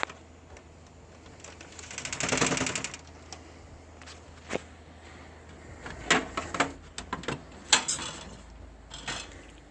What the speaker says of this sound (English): now I'm going to go ahead and open up the side panel so I can show you the graphics card on the inside